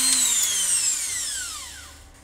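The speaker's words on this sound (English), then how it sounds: "Put that in a hole and then turn on the drill bit on the Dremel." A Dremel rotary tool with a drill bit spins down on a Toyota forklift circuit board, its high whine gliding downward in pitch and fading over about two seconds.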